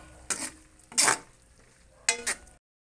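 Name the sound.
stirring sardines with egg and tomatoes in a pan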